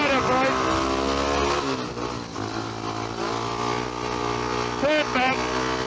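Speedway motorcycle engine roaring on a track, a loud continuous whine that rises and falls with throttle changes, with someone talking over it.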